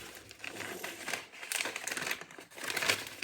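Paper surprise packet being unwrapped by hand, giving continuous close crinkling and crumpling with louder rustling bursts throughout, no talking.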